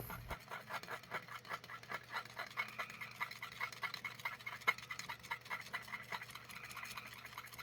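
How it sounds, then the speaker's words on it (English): Quiet stirring of a watermelon red pearl soft plastic lure mixture in a cup, soft rhythmic scraping and rubbing strokes repeating steadily, close and faint with no talk. "now we'll give that a good stir"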